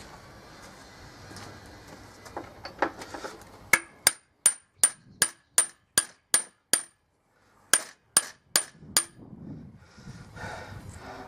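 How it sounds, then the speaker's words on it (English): A steady series of sharp metallic hammer strikes on a mono-wheel trailer hitch part, about a dozen evenly paced blows with a brief pause, ringing and close, with faint shuffling before and after. "Give it a hammer."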